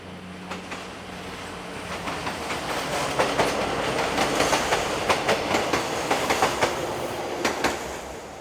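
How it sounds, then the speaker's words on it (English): A Class 416 diesel multiple unit passes nearby heading east on a Budapest line, its steady engine roar joined by a rhythmic clickety-clack of wheels over rail joints that grows louder as it goes by. "a Class 416 diesel unit heads east"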